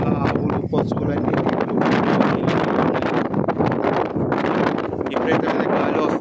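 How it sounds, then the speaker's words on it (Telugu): Strong gusty wind during flooding around the Budameru in Vijayawada buffets the microphone in loud, uneven roaring surges, with a voice talking over it. "విపరీతమైన గాలి వస్తుంది"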